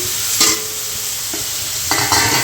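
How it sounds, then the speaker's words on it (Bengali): Onion and paneer fry in a hot pan with a continuous loud sizzle, while a utensil stirs and scrapes through them in a few distinct strokes, no voices present. "পেঁয়াজটা অল্প ভাজা হয়ে গেছে এবারে পনিরগুলোকে দিয়ে দিচ্ছি"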